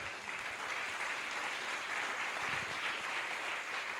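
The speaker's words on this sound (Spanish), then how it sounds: "Ahí va el aplauso para el Señor." Congregation applause at a missionary church service, a steady continuous wash of many hands clapping at a moderate distance, sustained evenly for a few seconds with no voices on top.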